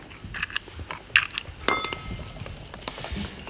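A utensil clinks lightly against a bowl while stirring an egg mixture of whole eggs and a yolk, giving a few scattered, close taps and scrapes in a quiet kitchen.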